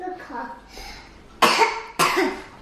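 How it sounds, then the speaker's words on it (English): A small creature gives two sharp, loud coughs in quick succession after some soft babbling vocal sounds, then a brief click at the end. "It's an amazing cough."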